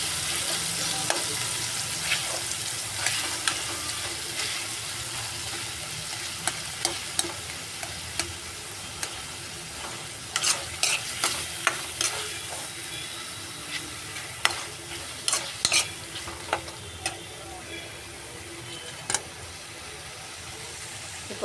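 Tomatoes sautéing on low heat in a pan for a simple home curry, a low continuous sizzle under repeated sharp spatula scrapes and clacks that come in irregular bursts, close by and without speech.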